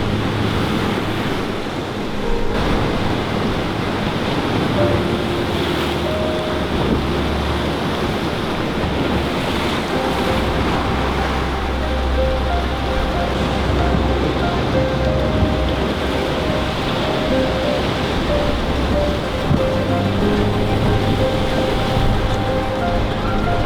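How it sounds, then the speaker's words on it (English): Loud ocean waves crash and roar continuously near a sea cave, with heavy wind buffeting the microphone throughout and no talking. "Hiding in the cave, hiding from the waves right now"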